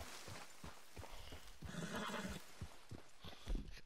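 A horse in Red Dead Redemption 2 whinnies in a loud, shaky neigh midway, with clip-clop hoofbeats and stamping around it.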